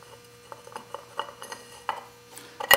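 Metal clutch parts clinking as a machined pressure plate with needle bearing is slid onto the splines of a Kawasaki KZ1000 clutch, several light close taps and clinks ending in a louder metallic knock.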